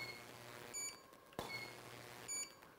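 A short, high electronic beep rings out twice from a studio strobe flash unit, faint against quiet room tone, with a sharp click between the two tones.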